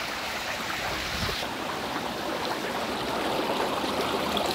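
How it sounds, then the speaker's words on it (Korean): Water runs steadily down a sloped water feature at an Ando-designed site on Jeju, a continuous broadband rushing and splashing with a brief low gurgle early on, close and even throughout. "저 초입에서는 물이 떨어지는 소리가 좀 많이 들리다가 이게 경사로 내려오는 소리에"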